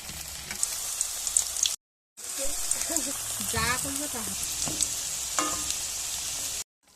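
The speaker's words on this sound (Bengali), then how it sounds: "দেখো তেল গরম হয়ে গেছে এরপরে ভেজে নেব এই মতো" Semolina-coated cauliflower cutlets fry in hot oil with a steady, bright sizzle, cut by a short gap of silence; a voice rises briefly midway over the crackle.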